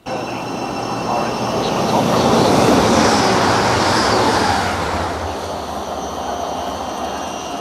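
A Grand Central train rumbles through Hitchin station at close range, swelling to a loud roar in the middle and easing off, with a faint voice underneath.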